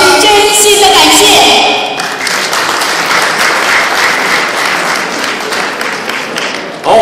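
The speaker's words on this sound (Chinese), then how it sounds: "让我们再次以热烈的掌声，向大力支持我们活动的企业家朋友们表示真心的感谢" A banquet audience at a 2007 Canadian Spring Festival Gala celebration dinner gives loud, warm applause, with music and a voice fading at the start, then sustained dense clapping that holds steady for several seconds.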